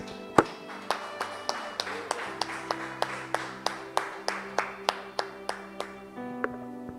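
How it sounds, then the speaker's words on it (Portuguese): Church congregation clapping in unison at a worship service, a steady rhythmic beat of about two claps per second, each sharp and distinct, carrying on for several seconds while sustained tones sound underneath. "Vamos aplaudir esse nosso Deus."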